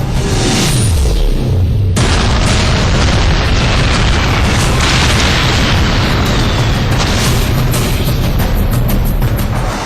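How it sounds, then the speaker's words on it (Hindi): Bombs dropped from aircraft explode in a loud, dense barrage of booming blasts that merge into a sustained roaring rumble, with an abrupt shift in the noise about a fifth of the way through. "विमान से छूटते ही बम के ये गोले हवा में लहराते हुए लक्ष्य की ओर बढ़ते हैं और चंद सेकंड में पूरा इलाका धुआं धुआं हो जाता है"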